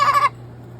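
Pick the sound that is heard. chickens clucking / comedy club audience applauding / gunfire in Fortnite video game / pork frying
chickens clucking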